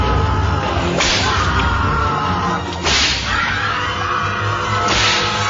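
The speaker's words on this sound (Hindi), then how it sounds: "सेल के अंदर एक चाबुक चलने की आवाज हुई" Three sharp whip lashes crack loud and close at steady intervals, each a swishing snap over a dark, rumbling ambient bed, with no voices.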